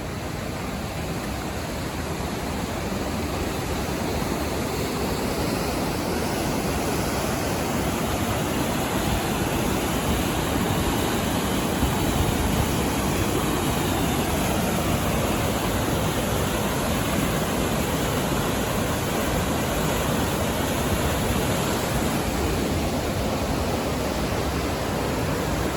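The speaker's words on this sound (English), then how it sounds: "We've come to this bridge and this waterfall." Steady, loud broadband roar of a waterfall at Otter Falls on the Taylor River trail, a continuous rushing wash of falling water close by with no voices over it.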